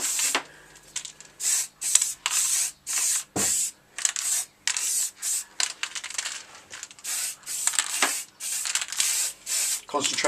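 Spray paint goes onto metal in a thin black coat, heard as a rapid series of short, close hissing bursts with brief pauses between them.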